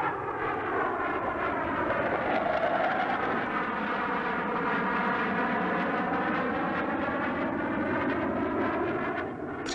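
Czechoslovak MiG-21F-13 jet fighters flying in a group aerobatic display: a loud, steady jet roar with a sweeping, shifting pitch as the aircraft pass, continuous for the whole stretch with no talking.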